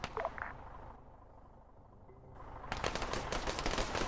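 A burst of rapid automatic rifle fire empties a magazine in the Arma 3 video game, following a short shot and a quiet pause, dense and loud toward the end.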